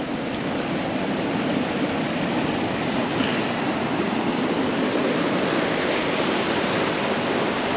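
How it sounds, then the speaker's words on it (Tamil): Water rushes heavily over the Velliyur check dam on the Kosasthalaiyar river at Thamaraipakkam, a loud, constant roar of churning flow with no pauses and no voices. "இந்த டைமில் இந்த மாதிரி தண்ணி பயங்கரமாக வந்துகிட்ருக்கு"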